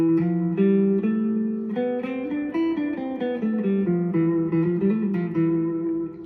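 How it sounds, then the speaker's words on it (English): A Phrygian scale played note by note on a plucked string instrument, each note clear and close, moving steadily in a continuous melodic run without speech. "And the Phrygian scale sounds like this."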